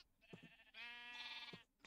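Sheep in the Minecraft modpack FTB Revelation bleat in short game-sound calls: two brief low bleats, then one long wavering bleat at moderate volume, with no talking.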